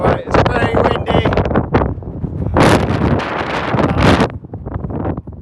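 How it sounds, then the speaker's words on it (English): Heavy wind roars and thumps against the microphone in loud gusts on a hilltop, Crook Peak, in February, with a person talking partly under the buffeting. "it's very windy"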